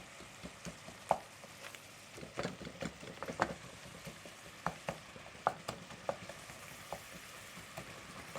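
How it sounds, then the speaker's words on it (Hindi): Spice paste (masala) is frying in a pot with a low, crackling sizzle. Frequent small pops and taps from stirring recur in an uneven rhythm, fairly close and quiet. "ये हमारा मसाला अच्छी तरह भुन रहा है"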